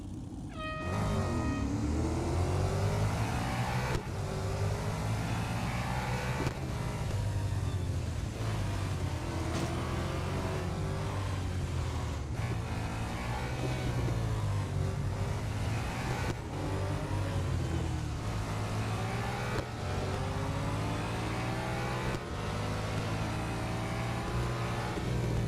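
A Bugatti Bolide engine roars without a break in the Real Racing 3 mobile racing game, revving loud and high with repeated upshifts and brief drops in pitch, no talking over it.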